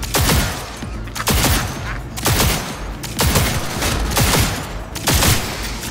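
Heavy bursts of gunfire in the video game Cyberpunk 2077, loud repeated volleys arriving every second or so, dense and close, with no talking over them.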